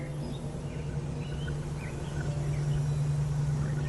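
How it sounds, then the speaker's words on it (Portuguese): A flock of chickens on a chicken farm produces a dense, continuous murmur of clucking with scattered faint calls, heard as a steady ambient bed without speech. "É uma fazenda de galinhas."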